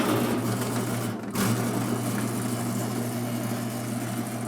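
A Molinito electric grinder steadily grinding nixtamal corn into masa, a continuous motor hum and rough grinding drone close by, with a brief dip partway through.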